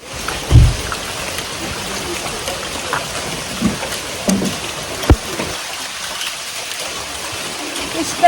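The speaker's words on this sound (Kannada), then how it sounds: "ಮಳೆ ಬರ್ತಿದೆ." Steady rain falls during a road trip near a waterfall around Sirsi, a continuous soft patter with a few louder splashes, while voices talk intermittently over it.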